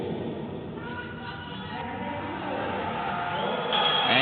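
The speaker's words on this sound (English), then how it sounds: "you can hear the crowd cheering" A crowd cheers at the men's synchronised 3m springboard diving final of the 2023 European Games, a distant, steady roar of voices that swells louder near the end.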